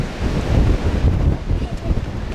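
Gusting wind buffets an outdoor microphone with a low, rumbling roar that swells and dips continuously, close and fairly loud throughout.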